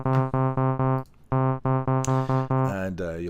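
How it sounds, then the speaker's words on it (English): A very basic software synthesizer built in Reaktor Blocks plays a run of short, evenly repeated harmonic notes with brief gaps, then a brighter, wavering tone as the filter and oscillator change, loud and with no voices. "then you should get a very basic synth that sounds something like this"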